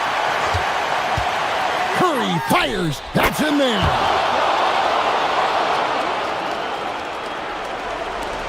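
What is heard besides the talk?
crowd cheering in basketball video game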